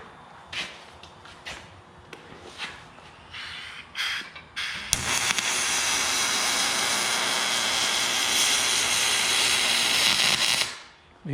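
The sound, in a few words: welding steel boat parts with XR30 welding gun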